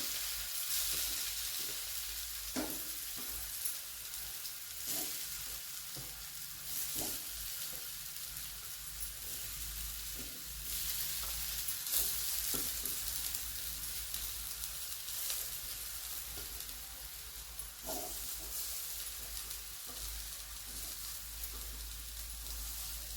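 Kothimbir vadi, coriander fritters coated with sesame seeds, shallow frying in oil on a hot tawa: a steady, even sizzle with faint crackle runs throughout, with occasional soft scraping and handling taps.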